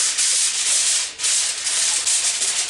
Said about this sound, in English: So let me just get a piece of aluminum foil.